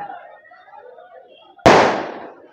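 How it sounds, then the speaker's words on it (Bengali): On Diwali night in Mumbai, one sharp, loud firecracker bang bursts out and rings away after a stretch of faint voices and background murmur. "চারিদিকেই বোম ফাটানো চলে, ধুমধাম করে চলে। চারদিকে আওয়াজই বুঝতে পারছো কত বোম ফাটছে এখানটায়।"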